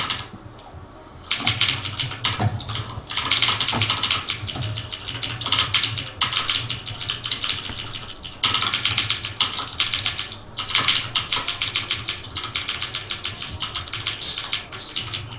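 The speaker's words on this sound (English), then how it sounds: "Sorry if my keyboard's loud." A loud computer keyboard during a StarCraft Zerg practice game: rapid, continuous key clatter with a low background hum, near and steady over several seconds, with no speech on top.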